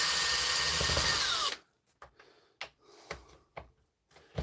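A hammer drill runs loud and close for about a second and a half during a repair on a jammed spindle, then cuts off, followed by several short, sharp bursts and knocks separated by quiet gaps.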